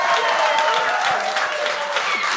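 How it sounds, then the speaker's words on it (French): Audience applause for a performer on a French-language gong show, a dense, steady wash of many hands clapping close and loud for the full stretch, with faint voices mixed in. "on peut l'applaudir"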